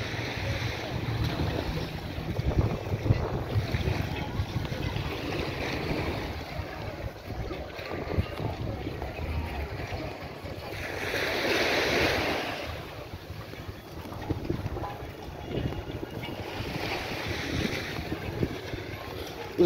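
Surf washing onto a beach in Bridgetown, Barbados, a steady broadband rush mixed with wind buffeting the microphone, with one fuller wave surge swelling in the middle.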